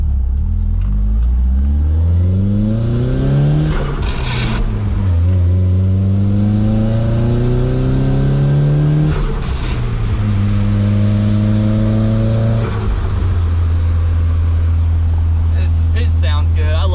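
A turbocharged Toyota Aristo engine revs repeatedly, pitch climbing in long sweeps and dropping back between pulls, loud and close, with a brief turbo flutter near the end.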